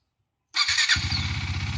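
A 2017 KTM Duke 390 motorcycle engine cranks and catches after a moment of silence, then settles into a steady, close, rhythmic single-cylinder idle.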